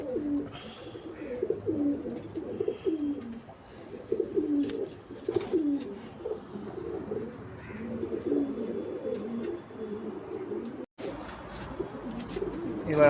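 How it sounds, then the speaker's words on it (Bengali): Breeder pigeons kept in a home loft coo steadily in overlapping low, rolling phrases, close and continuous throughout, with a brief dropout near the end and no talking. "এটা আমার ঘরের ব্রিডার পায়রা।"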